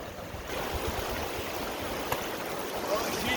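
River water rushing steadily at a ford on a snowy day, a broad continuous wash of flowing water close by with a faint knock partway through.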